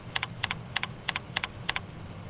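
Quick keystrokes on a computer keyboard while a name is typed into a message field, arriving in close pairs of sharp clicks at a steady rhythm, near and fairly quiet over a low background hum, with no talking.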